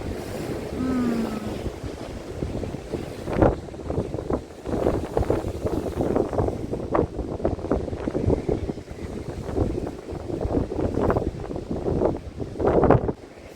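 Wind gusting across the Odesa seashore on a winter day, a steady roaring rush with choppy bursts of buffeting against the microphone, mixed with surf washing in, close and fairly loud throughout with no talking.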